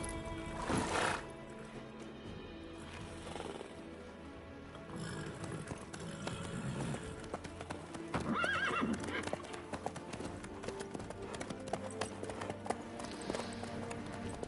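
A horse in The Witcher 3 video game, with steady hoof clip-clops on the ground and whinnying neighs, heard clearly over quiet ambience throughout.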